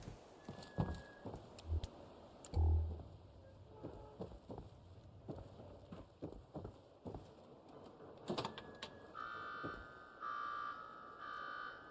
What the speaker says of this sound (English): Oh, that's an alarm.